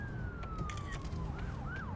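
An ambulance siren wails outside, faint and distant, its tone sliding down slowly then warbling up and down as it passes, over low steady background rumble.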